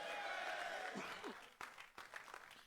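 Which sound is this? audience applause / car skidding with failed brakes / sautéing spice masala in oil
audience applause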